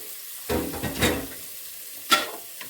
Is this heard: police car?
no